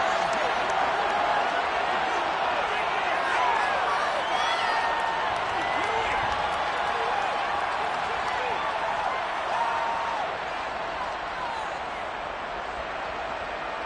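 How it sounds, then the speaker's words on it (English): A stadium crowd in Madden 23 roars in a dense, constant wash of shouting and cheering that stays loud and unbroken throughout. "Shouts from this crowd as they watch the replay."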